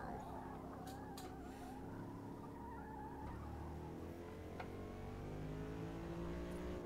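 A Corvette races in the Forza video game, its engine droning and shifting pitch as the tires squeal through a skid, a continuous, fairly loud mix with no talking.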